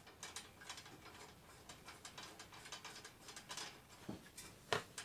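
A rear brake adjuster on a Honda XR100 is turned by hand, giving a close, quiet run of rapid ratchet-like clicks that ends in a couple of sharper ticks, with no voices.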